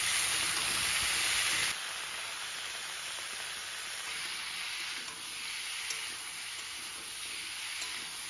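Potatoes and pointed gourd frying in a pan give off a soft, steady hiss, louder at first and then settling into a quieter, even sizzle.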